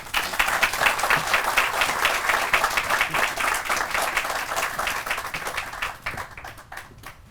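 An audience applauds to welcome Commissioner Maria Sachs at a groundbreaking ceremony. The clapping is dense and steady for several seconds, then thins and fades away at the end.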